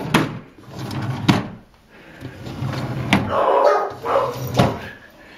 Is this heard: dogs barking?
yes